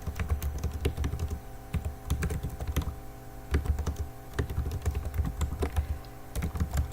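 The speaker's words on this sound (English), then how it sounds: "I'll just type it in." Steady, fast typing on a computer keyboard, close and clear, with dense clusters of key clicks broken by brief pauses and no talking.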